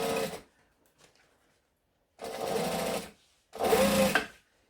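A sewing machine top stitching fabric runs in three loud, steady bursts of rapid stitching, separated by short quiet pauses.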